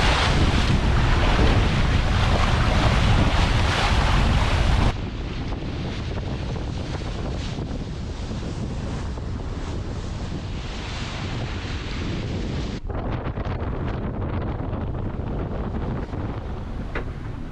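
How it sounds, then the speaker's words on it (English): Strong wind buffets the microphone while waves rush past a small sailboat on the North Sea, a loud, continuous roar that eases slightly partway through but never stops. "See the wind's picked up again."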